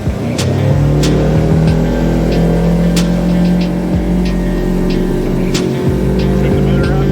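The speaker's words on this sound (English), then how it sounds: "So here we go. I'll go ahead and open it up." Outboard motor on a Ranger VX1788 aluminum boat throttled up from about 2100 RPM cruising, a loud, steady droning engine whose pitch rises gradually, with wind and water rushing close by.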